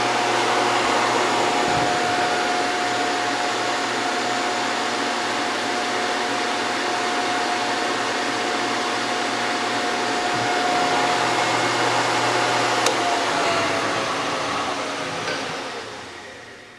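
SCMI T130 woodworking shaper with spindle motor running in reverse, a constant whirring hum with a steady high whine, loud and close, then tapering off at the end.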